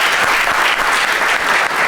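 A studio audience applauds loudly and steadily, with close, continuous clapping throughout.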